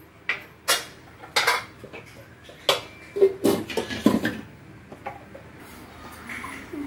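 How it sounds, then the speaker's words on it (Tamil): Boiled banana flower being drained in a metal strainer after coming out of a pressure cooker, heard as a series of clattering metallic knocks and scrapes, fairly close and loud, with no talking. "இப்போ நம்ம இதை வடிகட்டிடலாம்"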